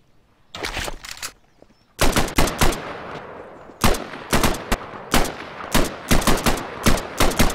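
Gunfire in Garry's Mod rings out in sharp bursts, a short volley near the start, then rapid clustered shots with echoing decay between them, loud and close with no voice over the shooting.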